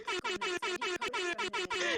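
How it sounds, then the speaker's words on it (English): Air horn blasts repeat in a rapid, even series of about eight loud, brassy honks separated by brief gaps. "Some air horns, please."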